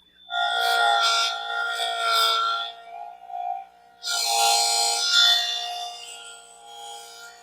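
A JoolTool rotary polisher works over an enamel surface, giving a steady high whirring rasp in two long passes with a short lull between, close and fairly loud with no talk.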